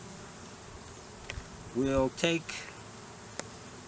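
Honey bees buzz on a brood frame during a hive inspection, a soft insect drone running beneath brief, close speech and a few bumps from handling the frame.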